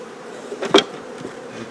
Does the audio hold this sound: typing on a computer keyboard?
no